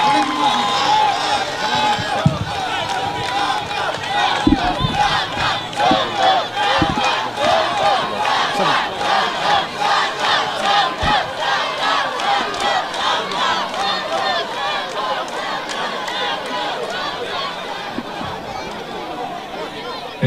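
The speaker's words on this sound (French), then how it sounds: "Applaudissez encore." A large crowd welcoming Prime Minister Ousmane Sonko in Gambia claps, cheers and shouts in a continuous, lively roar, with voices calling out over the din throughout.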